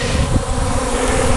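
Dense, steady buzzing of many honeybees packed into a full, healthy hive, a continuous close hum with no voices.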